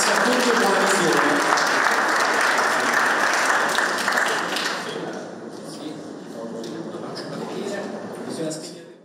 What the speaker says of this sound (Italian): grazie, ma il vostro applauso lo giriamo ad Antonio